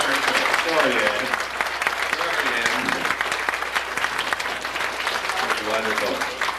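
Sustained applause from wedding guests for a singer, a dense steady patter of many hands with murmured voices underneath, easing slightly toward the end.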